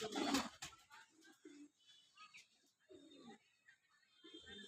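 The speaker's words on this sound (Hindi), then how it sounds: "दोस्तों शौक करके दिखाता हूँ कबूतरों का" Pigeons coo in a series of soft, low, throaty calls at close range in a quiet setting, with a brief louder rustle at the start.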